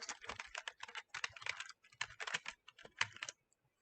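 Rapid, steady typing on a computer keyboard, with close, crisp key clicks in dense runs broken by brief pauses, ending in silence.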